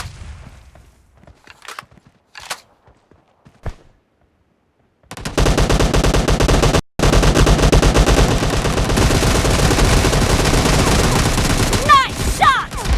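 Gunfire in a shooting video game: a few sparse shots first, then a sustained, loud burst of rapid automatic fire filling the rest, with a brief cut in the middle.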